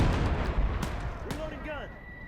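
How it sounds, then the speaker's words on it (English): Heavy gunfire in a Gates of Hell Ostfront battle, several loud booming shots in quick succession with a ringing, whistling tail, close and echoing. "we're starting to exchange fire. Like, a lot of nasty fire with something big"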